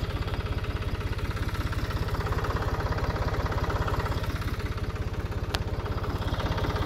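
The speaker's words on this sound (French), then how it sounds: "j'ai pris le tracteur de mon beau-père parce qu'il avait le roto avec les disques" A tractor engine runs steadily and close by, its throb even and unbroken for the whole stretch, with no voices over it.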